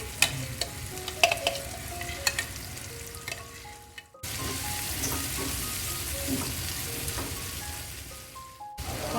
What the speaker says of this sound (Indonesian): Setelah bawang merah dan bawang putihnya udah layu, masukkan cabai yang udah di blender tadi.